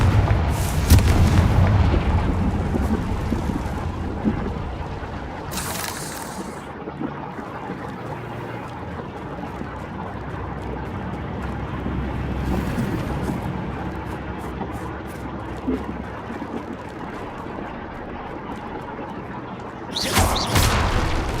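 A Confringo fire spell bursts in a crumbling catacomb in the Hogwarts Legacy video game, with deep booms and rumbling blasts spread over a long stretch of game noise.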